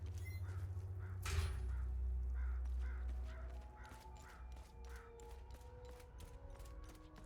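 A single dull knock rings out over a low rumble, then a flock of crows caws in the video game Hell Is Us, a steady run of harsh calls that carries on to the end.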